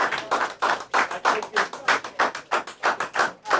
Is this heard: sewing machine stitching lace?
no